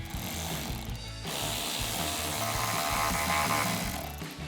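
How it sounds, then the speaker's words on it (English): A ratchet fitted with an 8 mm socket tightens a hose clamp on a Ford F-150 K&N Series 50 cold air intake, with rapid, steady metallic clicking that continues for several seconds and pauses briefly once. "we're going to take a 8 millimeter socket and a ratchet and tighten down this hose clamp right here"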